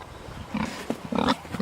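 Pigs kept on pasture give a few short, close grunts in quick succession, low and rough, over a faint outdoor background.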